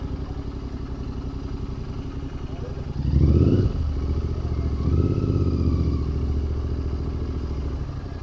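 A Royal Enfield Continental GT 650 motorcycle engine burbles nearby at idle, then its exhaust swells briefly with a throttle blip and settles into a steady, deep rumble.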